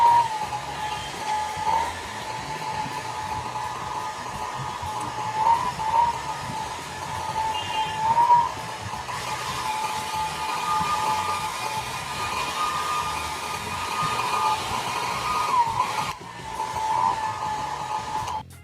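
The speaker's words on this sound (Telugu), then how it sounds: "హెయిర్ డ్రైయర్ని ఉపయోగించి నేను ఇవంతా కూడా తడి అనేది ఎక్కడా లేకుండా ఎవాపరేట్ అయిపోయే విధంగా నేను క్లీన్ చేశాను." A hair dryer blowing hot air over the parts of a Yamaha PSR200 keyboard, a continuous close rushing whoosh with a faint whine that holds steady throughout, with no talking.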